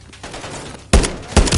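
Gunfire in a Call of Duty Black Ops 6 cutscene: after a quiet stretch of low rumble, two loud, close bursts of rapid shots crack out in quick succession.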